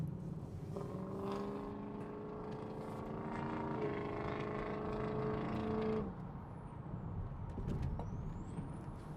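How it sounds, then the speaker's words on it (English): A heavy diesel truck on a freeway drones steadily nearby with a harmonic hum, then the sound cuts off abruptly, leaving quieter road noise behind. "we got a big old diesel truck that just blocked us"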